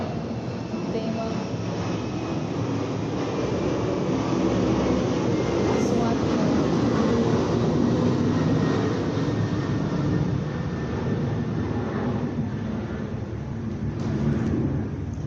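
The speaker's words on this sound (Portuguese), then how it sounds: "é porque aqui passa um avião que a gente não consegue ouvir direito" An airplane passes overhead with a broad, sustained roar that swells and lingers at moderate level for the whole stretch, low rumble dominating, with no clear speech over it.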